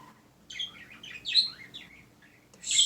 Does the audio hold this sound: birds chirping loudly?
yes